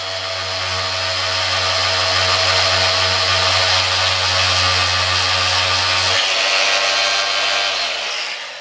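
A power sanding tool wet-sands the painted tank of an FZR cafe racer motorcycle, its motor whirring loud and close at a steady pitch before spinning down at the end.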